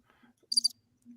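A cricket sound effect gives one brief, bright chirp made of two quick pulses during a ham radio livestream, with a faint low hum before and after and no other sound.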